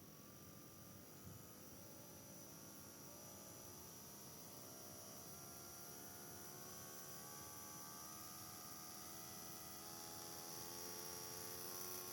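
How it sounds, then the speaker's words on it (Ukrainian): A small Canon printer motor running on its own, giving a steady electric whine with a layered tonal hum that rises slightly near the end. "Ось ще один схожий, чи, можливо, аналогічний мотор. Також від принтера Canon."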